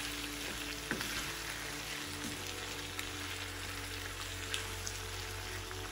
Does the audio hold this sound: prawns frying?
yes